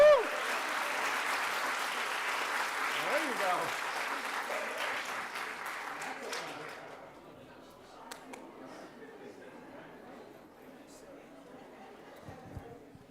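An employee service award presentation, with a room full of people breaking into loud, sustained applause and cheers for a 35-year special project administrator. The clapping holds steady for about seven seconds, then thins out to scattered claps and murmuring chatter.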